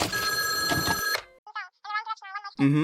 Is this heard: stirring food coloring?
no